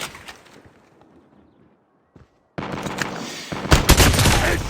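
Bursts of gunfire ring out in a shooter video game: scattered shots fade to near silence, then a loud rapid volley of repeated shots and clatter erupts.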